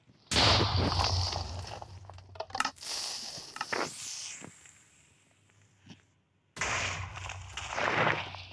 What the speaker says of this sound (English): You can also shoot like multiple TNT at a time.